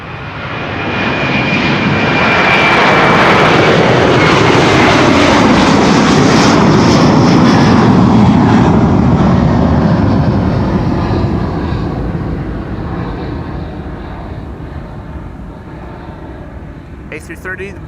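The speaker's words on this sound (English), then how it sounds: "This is Delta Airlines flight 47 to New York, JFK." A Delta Air Lines Airbus A330 departing Schiphol's Kaagbaan runway 24 for New York JFK, a very loud jet roar swelling to a peak, then slowly fading as it climbs away.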